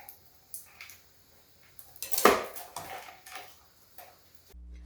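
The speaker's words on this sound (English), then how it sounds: "you want to cut the tip and the root off the clove" A kitchen knife cuts the tip and root off a peeled garlic clove on a board, giving a few soft taps and one firmer central chop, close and fairly quiet, with no talking.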